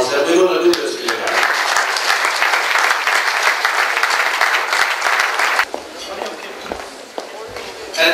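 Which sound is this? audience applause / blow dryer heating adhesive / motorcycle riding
audience applause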